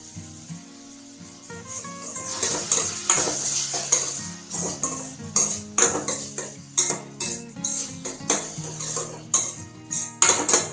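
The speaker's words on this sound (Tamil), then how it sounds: "அந்த பச்சை வாசனை போகிற வரைக்கும் நல்லா வதக்கிடலாம்" Ginger, garlic and green chilli paste sautéing in a pan, with a spoon repeatedly scraping and stirring against the metal in a steady rhythm over a soft background sizzle.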